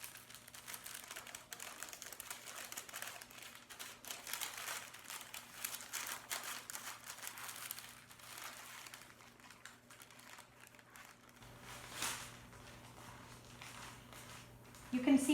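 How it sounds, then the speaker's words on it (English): Parchment paper crinkles and rustles softly in scattered, irregular bursts while a banana cake roll is carefully rolled up inside it, close and quiet throughout. "placing my parchment paper on top, I'm going to roll it up very carefully"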